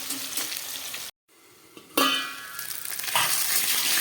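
Potatoes fry in a pan on low gas with a close, crackling sizzle that cuts out briefly, then returns louder and keeps going.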